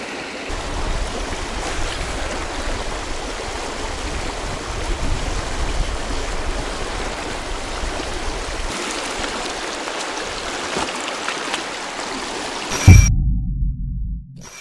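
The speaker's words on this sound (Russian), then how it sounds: "какой мощный тут перекат, ребят" Powerful river rapids in the taiga rush in a steady, loud roar nearby, until a sharp clatter near the end cuts it off.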